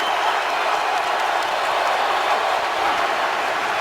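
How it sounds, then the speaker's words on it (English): Steady roar of a stadium crowd at an American football game, a dense continuous wash of cheering and noise with no breaks, loud and enveloping throughout. "Crowd noise certainly a factor"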